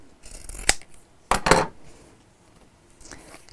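Scissors rough-cutting fabric tabs for a zip panel, giving a few sharp snipping crunches: one around the first second, a louder longer double cut midway, then a quieter snip near the end, with no talking.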